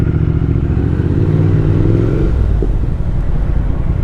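A Triumph Speed Twin motorcycle with a decat X-pipe and Michelin Road 6 tyres accelerates hard on the road, its loud, steady engine roar close and continuous with no talking over it.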